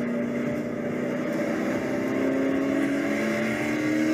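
A Corvette race car engine drones loudly and steadily during wheel-to-wheel WRL racing at Barber, its pitch slowly climbing as it accelerates, heard close and without talk.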